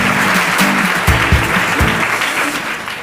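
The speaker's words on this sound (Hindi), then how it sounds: "जोरदार तालियां हो जाए इनके लिए।" Studio audience clapping on a Hindi quiz show after a contestant's wrong answer, dense and loud throughout with a few sharp thumps and faint background tones.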